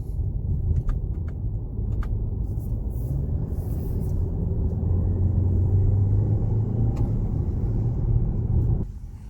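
A VW Arteon engine in sport mode, fitted with an APR carbon fiber intake and turbo inlet pipe, rumbles steadily from inside the cabin, low and continuous, with a faint rise in tone before suddenly dropping off near the end.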